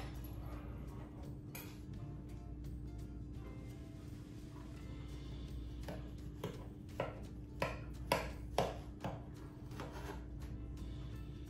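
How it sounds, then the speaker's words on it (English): A knife cutting coffee cake with cinnamon streusel topping in its pan: faint scraping early, then a run of sharp clicks and taps against the pan over a low steady hum, with no voices. "Let's cut her and see how she tastes."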